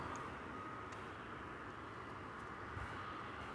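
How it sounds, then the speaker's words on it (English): Far-off, steady jet engine roar of a Frontier Airlines airliner arriving from Denver at DFW Airport at night, a faint, even rumble with no talk. "another Frontier flight coming in from Denver"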